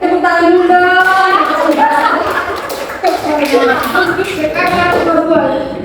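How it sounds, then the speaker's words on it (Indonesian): A microteaching class claps their hands together while voices talk loudly over the clapping, a teacher and students speaking throughout. "Tepuk tangan dulu dong"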